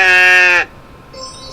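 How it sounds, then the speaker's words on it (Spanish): A single loud, near sheep bleat with a clear tonal wavering cry, fading out into quiet. "es una oveja, ¿verdad?"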